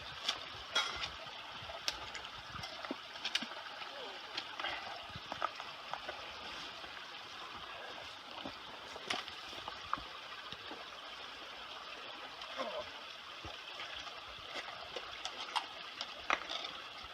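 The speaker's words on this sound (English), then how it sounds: "Dabbling brook." A babbling brook along a wooded hiking trail at Cape Chignecto gurgles and trickles steadily at low volume for the whole stretch, with small irregular splashes and no voices.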